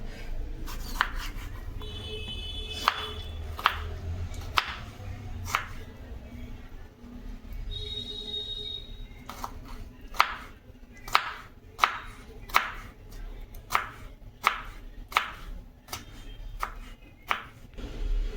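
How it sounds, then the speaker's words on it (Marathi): Tomato chopped finely with a knife on a board, a string of crisp taps that starts irregular and settles into a quick, steady rhythm, close and clear with faint background noise. "आता हा आपण टमाटर घेतलाय, तो पण बारीक चिरून घेणार आहोत."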